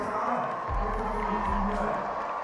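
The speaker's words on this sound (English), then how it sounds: "Audience getting hyped. Audience rooting for their team. We've got clapping behind the setup" Audience at a competitive event cheering and rooting for their team, with a steady roar of crowd noise and scattered shouts. The sound is fairly distant and even, with a brief low swell partway through.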